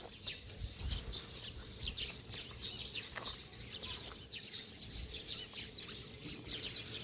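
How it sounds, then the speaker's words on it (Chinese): Sparrows chirp and tweet repeatedly around a quiet countryside seaside temple in Budai, Chiayi, with busy overlapping calls at moderate distance over soft ambient noise. "麻雀飞来飞去。"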